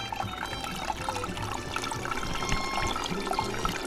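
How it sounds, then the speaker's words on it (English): Buttermilk drains from a vintage butter churn, a close, continuous splashing and trickling pour with gurgling liquid sounds, steady and moderately loud with no voices. "So we're draining off the buttermilk here."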